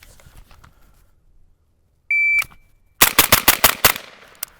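A timer beep, then six rapid, loud gunshots in a tight burst on a 10-yard pistol range drill, close and sharp against otherwise quiet surroundings.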